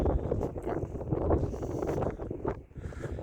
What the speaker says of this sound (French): Avec le vent, c'est sûr que c'est plus compliqué.